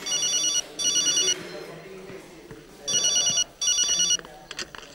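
A telephone rings in a Hindi-dubbed action film: two pairs of bright electronic trilling bursts, each about half a second long, with a gap between the pairs and chatter underneath.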